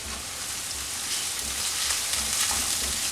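Green chillies sizzle as they are sautéed in a pan, a steady crackling fry close by with faint stirring and no voices.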